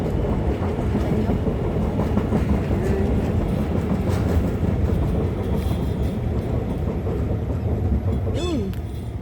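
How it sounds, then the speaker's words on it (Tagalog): MRT train rolling past outdoors, a steady loud rumble with rail noise running through the whole stretch, nearby and continuous. "Dumadaan na yung MRT."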